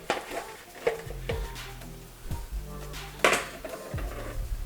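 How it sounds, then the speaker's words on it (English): Potatoes being placed into an air fryer basket, with a series of soft clunks and scrapes at irregular intervals, close and fairly quiet, with one sharper knock partway through. "let's put these in the air fryer"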